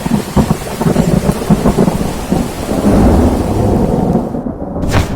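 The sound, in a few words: thunderstorm with thunder and rain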